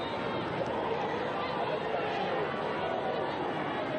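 Stadium crowd at a women's international football friendly between South Africa and Zambia, a continuous distant roar and murmur of many voices, steady and moderately loud with no distinct cheers.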